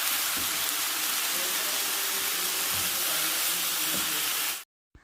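Onions and green chillies fry in hot oil with a dense, continuous sizzle, loud and close, until it cuts off abruptly near the end.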